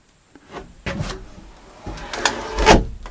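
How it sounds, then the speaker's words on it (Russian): A door in a newly built wooden log cabin swings and closes. Several soft wooden rubs and scrapes build to a firmer thud near the end, close up and without talk. "Дверь хорошо закрывается."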